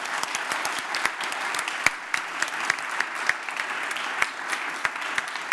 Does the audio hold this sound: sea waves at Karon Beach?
no